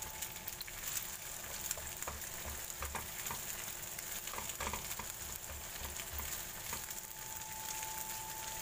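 Egg frying in a pan and being stirred, a close, steady sizzle with patter and intermittent scraping taps from the stirring throughout, no voices.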